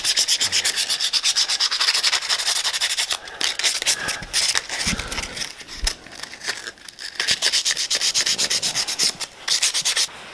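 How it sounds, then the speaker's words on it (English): Brass pen tubes are rubbed with 240 grit sandpaper for pen turning, giving loud, rapid back-and-forth scratchy strokes that pause briefly now and then before starting again. "I'm just going to rough up the sides of these, of the brass inners, and I'm going to use 240 sandpaper for that one"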